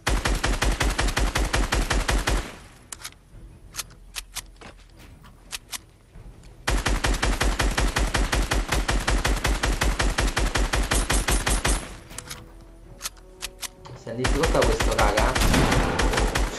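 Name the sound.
gunfire from the video game Fortnite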